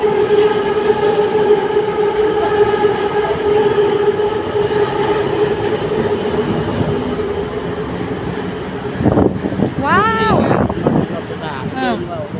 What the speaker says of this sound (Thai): รถไฟฟ้ามาแล้ว